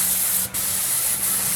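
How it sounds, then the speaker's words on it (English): Airless paint spray gun hissing steadily while spraying primer on a house exterior, a tip on the verge of clogging, with a brief dip and sputter in the spray midway through. "Hear the different sound that spray tip's making? That's the sound of the tip about to clog"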